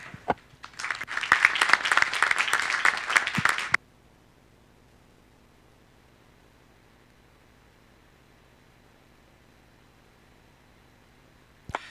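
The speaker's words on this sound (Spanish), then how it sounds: "Voy a pedir un aplauso para los participantes de..." Audience applause for participants at a Spanish book presentation on company valuation, a burst of dense clapping lasting about three seconds before cutting off abruptly into near silence.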